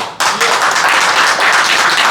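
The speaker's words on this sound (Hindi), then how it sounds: "बजाओ ताली।" Audience clapping at an orientation session for a summer internship, a dense burst of applause that starts abruptly and fills the whole stretch at steady, fairly loud level with no talk over it.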